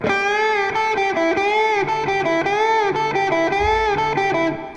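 A heavily distorted electric guitar plays a slow pentatonic lick, the notes bending and sustaining with a gritty, buzzing tone that rings out at the end.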